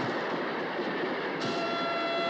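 A train in the 1963 film Charade rumbles past in a loud, steady roar of wheels and carriages, joined midway by a sustained high tonal whine like a horn or brake squeal.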